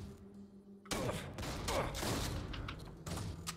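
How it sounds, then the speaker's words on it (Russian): Shotgun blasts in the sci-fi roguelike Jupiter Hell, fired at robots: after near silence, loud booming shots burst in with harsh crackling tails, mixed with game clatter and rumble, no talk. "Просто два выстрела и все."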